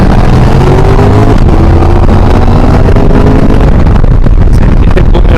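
Loud, close motorcycle engine roar on the Col de la Madeleine, France, that swells and rumbles continuously, with heavy wind buffeting over the top.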